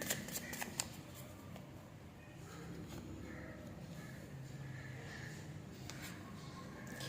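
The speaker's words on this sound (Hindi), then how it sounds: "यहाँ पे एक बार शफल कर लेते हैं।" Tarot cards shuffled close by in a quiet room, a run of soft riffling flicks and taps, faint and irregular, with no talking over them.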